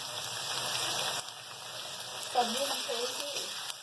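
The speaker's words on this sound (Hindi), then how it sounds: "इन सारी चीज़ों के साथ हम फ्राई कर लेंगे अपनी सब्जी" Vegetables for a dhaba-style aloo gobhi karahi fry in a pan with ginger and garlic, making a steady, moderately loud sizzle with a brief sharper crackle midway and faint background noise.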